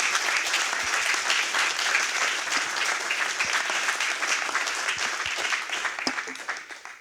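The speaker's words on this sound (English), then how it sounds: "maybe applause for the 8 students who worked night and day for the last 2 days on doing this" Sustained, dense applause from a workshop audience for a group of students fills the room at full volume and fades slightly toward the end.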